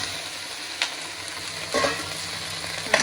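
Cleaned crab is tipped into a hot pan for crab sukka, with an even sizzle under brief scraping clatters and a louder hiss surge partway through, close up and without speech.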